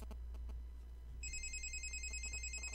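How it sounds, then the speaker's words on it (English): Telephone ringing in the game Republique Remastered: a bright electronic ring starts partway through and repeats steadily over a low background hum. "Let me answer the phone."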